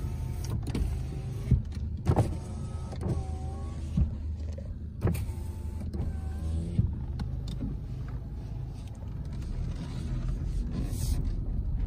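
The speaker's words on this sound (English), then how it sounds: "All the windows work." Power windows on a 2014 Ford Fusion SE whir up and down in several short motorized runs inside the car, each ending with a soft thunk, over a steady low cabin hum.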